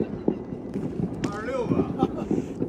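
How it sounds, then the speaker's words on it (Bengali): A few sharp fireworks bangs pop in the distance under wind noise and a nearby person talking. "যেহেতু এটা শহরের বাইরে, এই কারণে সব জায়গায় আতশবাজি ফুটাচ্ছে"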